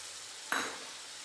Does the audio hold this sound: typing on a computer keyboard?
no